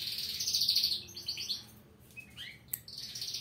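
A canary chirps in a run of bright, quick twittering phrases, close and fairly loud, with a brief pause in the middle before the song resumes.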